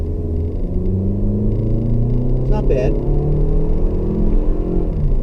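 A 2020 Toyota RAV4 TRD Off Road's four-cylinder engine hums and rumbles steadily as it picks up speed, with someone talking briefly over the drone.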